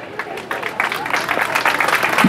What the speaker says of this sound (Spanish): Quiero que la recibamos con un fuerte aplauso a Ofelia